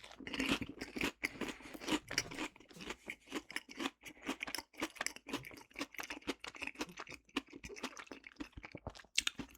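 Loud, close crunching and chewing of a Lay's Stax crisp sandwich, with rapid irregular bites and munches continuing throughout with no talking.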